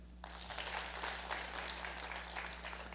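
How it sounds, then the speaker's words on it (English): A live audience at a college talk claps their hands together in a steady, dense patter that starts abruptly and holds for several seconds, heard from a moderate distance with a faint electrical hum beneath. "just clap your hands"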